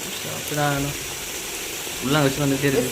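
Crushed ginger garlic paste for chicken biryani hits a hot pan with a steady sizzle of frying, while people talk over it close by.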